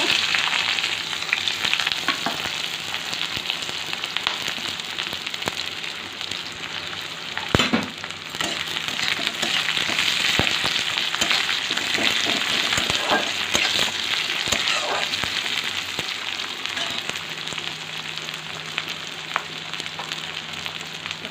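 Cinnamon, cloves, peppercorns and onion fry in hot oil in a pan for a cauliflower, potato and green pea curry, giving a steady close hiss and crackle with occasional stirring scrapes and no talking.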